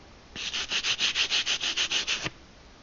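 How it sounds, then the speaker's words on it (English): A scrubbing brush rubs back and forth across the surface of an R2 bullpup airgun's muzzle, making about a dozen rhythmic, evenly spaced abrasive strokes that are close and clear with no talk. "Now you can also use what I've got, scrubbing brush, covering large areas, get it done quick."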